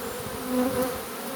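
Honeybees in swarm mode buzz close by after being shaken from a hive, a steady droning hum that swells louder briefly midway, with no talking.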